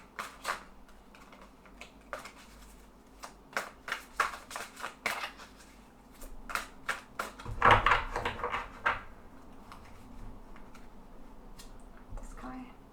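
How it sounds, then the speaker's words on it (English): Tarot cards shuffled by hand in a series of crisp riffling bursts, loudest in a dense flurry partway through, with quieter card handling around it in a calm indoor room. "So let's shuffle"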